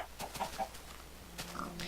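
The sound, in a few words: chicken clucking in the video game Minecraft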